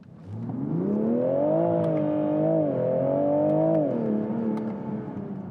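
A 2022 Toyota GR Supra 3.0 with its B58 straight-six engine revs up, holds and wavers at high revs, then eases back, giving a smooth, clear engine tone heard alone.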